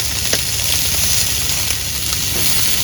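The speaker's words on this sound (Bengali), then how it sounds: "এই দেখো টাকির মাছ দিয়ে ভাজতেছি আমি" Taki fish fries in a pan of oil, a steady dense sizzle running throughout with a few faint clinks, close and fairly loud, no talking.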